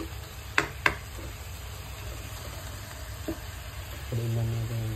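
Broth poured into a hot pan of pancit sets off a steady sizzle and hiss, with a couple of sharp clinks early on and a bubbling swell near the end, heard close.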